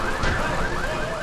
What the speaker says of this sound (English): Can't believe this is the first car alarm I've heard this episode.